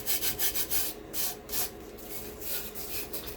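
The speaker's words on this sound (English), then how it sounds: "And it is burnishing up beautifully." A painted buffalo plaid tumbler surface is burnished by hand, making repeated rhythmic rubbing strokes, a dry scratchy swish that rises and falls in short bursts, close and quiet with no talk.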